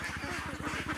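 Wild ducks quack in a rapid run of repeated calls, fairly faint and at a short distance, with no other sounds over them.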